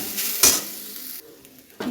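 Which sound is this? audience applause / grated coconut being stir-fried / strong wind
grated coconut being stir-fried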